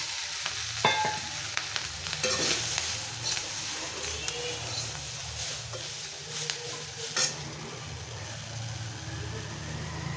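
Spring onion shoots frying and being stirred in a pan, a continuous soft sizzle broken by scraping stirs and light clanks of a utensil, with a faint voice in the background.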